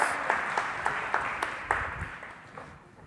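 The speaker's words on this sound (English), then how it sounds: "Give them an applause." A conference audience at a UX talk gives a round of applause, many hands clapping at moderate distance in a steady wash that gradually thins and fades away.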